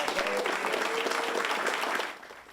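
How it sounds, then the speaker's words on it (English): A crowd at a high school football award show applauds a Player of the Year honoree, with brisk, dense clapping for about two seconds before it quickly drops off. "Let's give a big round of applause for Timothy Cole II."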